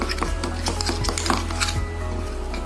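Mashed radish greens being mixed with raw mustard oil in a bowl, giving soft scraping and clinking of a utensil against the dish, repeated at an uneven pace, close by over a steady low background hum.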